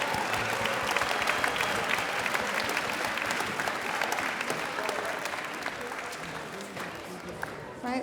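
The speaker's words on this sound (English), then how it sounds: "Can we give them a big round of applause?" A big round of audience applause for the school bands at a joint high school band concert, dense and even throughout, a crowd clapping steadily at the same level from start to finish.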